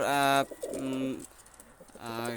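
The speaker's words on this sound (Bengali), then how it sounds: "দুইটা কবুতর দেখেন আপনারা" Pakistani high-flyer pigeons coo close up, soft throaty calls repeating in short bursts with brief pauses between them.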